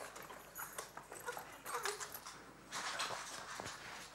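A small dog moves about up close, with soft snuffling, pattering paws and brief whimpering noises in uneven bursts.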